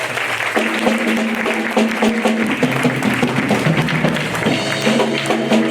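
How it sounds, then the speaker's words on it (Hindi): A church congregation clapping together in a lively, sustained burst of dense applause, with steady musical tones from worship instruments running underneath. "जितने भी लोग यहाँ पे समय आनंदित हैं, वो एक बार ताली बजा के प्रभु को मनाना चाहेंगे"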